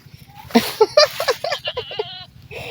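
A goat bleats several times in quick succession, close and loud, with short wavering cries.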